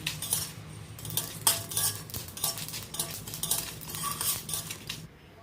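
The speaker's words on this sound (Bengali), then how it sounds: "তো আমার মশলাটা ভাজা হয়ে গেছে, এবার আমি এটাকে তুলে নিচ্ছি" A metal spoon scrapes and clinks repeatedly against a pan while scooping out fried spices, irregular strokes up close, ending abruptly with silence.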